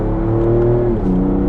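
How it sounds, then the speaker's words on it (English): A 2020 Ford F-150 Raptor pickup engine revs steadily in second gear under light throttle, a loud, sustained low drone with a rising harmonic tone heard close and alone. "2nd gear, you can hear the engine a good bit there."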